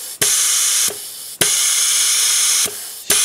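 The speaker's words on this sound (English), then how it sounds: "See all the air coming out?" Air hisses out of a tire through a deflator tool in loud, steady bursts that start and stop abruptly, with short quiet gaps between releases.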